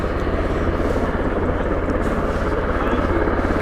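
A helicopter taxis on the ground at Stansted Airport, its rotor producing a loud, continuous pulsing thump close by, with a person talking over it.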